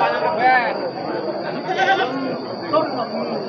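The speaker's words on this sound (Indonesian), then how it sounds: "di depan kita sudah ada kambing jantan" A young male goat, about six months old, bleats repeatedly in wavering cries close by at a goat market, with a person talking steadily over the animal sounds.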